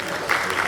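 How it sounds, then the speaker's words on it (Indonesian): Audience applause for students at an academic lecture and discussion session, a brief steady burst of clapping from a seated crowd filling the room, close and moderately loud. "Kita beri tepuk tangan dulu untuk mahasiswa ya."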